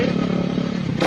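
A big bike motorcycle with an open muffler idles loudly and close by, a rough, steady rumbling exhaust note with a rattly crackle, swelling briefly at the very end.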